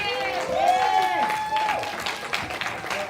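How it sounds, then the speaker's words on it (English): A church congregation applauds on Palm Sunday, scattered clapping under loud voices and sung or shouted tones, busy and fairly close. "Come on, give a round of applause"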